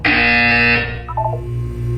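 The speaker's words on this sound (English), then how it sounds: "You will hear a buzzer. When you hear the buzzer, look up at the ceiling." A harsh, loud electronic buzzer from the Portal 2 video game sounds steadily for about three-quarters of a second, then cuts off and leaves a low hum with a few faint electronic blips.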